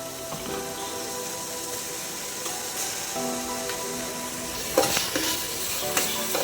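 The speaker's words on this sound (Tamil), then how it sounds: "இஞ்சி பூண்டு பேஸ்ட் போட்டு ஒரு ரெண்டு நிமிஷம் போதும் இந்த எண்ணெயில் இந்த கிரேவி வதங்கிறதுக்கு" Ginger garlic paste frying in hot oil with a tomato gravy for mushroom biryani, a steady close sizzle with stirring scrapes and a few louder spoon clatters near the end.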